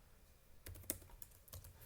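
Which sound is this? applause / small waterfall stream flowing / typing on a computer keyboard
typing on a computer keyboard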